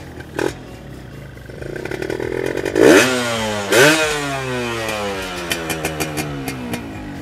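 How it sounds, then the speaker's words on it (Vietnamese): A modified Yamaha Yaz motorcycle engine with an aftermarket exhaust is kicked and catches, then revs sharply twice with a loud throaty roar before settling into a popping, uneven idle. "Thôi bây giờ Huy sẽ nhờ anh Ròm nổ máy để cho anh em nghe âm thanh của nó thử"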